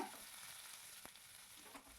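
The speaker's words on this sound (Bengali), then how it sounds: "এবারে এটাকে সুন্দর করে তেলের সাথে ভাজা ভাজা করে নিতে হবে" Onion and green chili frying in oil for an egg paratha filling, a steady close sizzle with soft stirring scrapes and a brief clatter near the middle, no talk.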